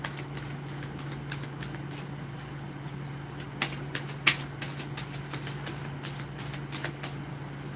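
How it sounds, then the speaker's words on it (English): Playing cards being shuffled repeatedly, a steady run of soft riffling with sharper snaps near the end, over a low constant hum. "I'm going to give you one more shuffle"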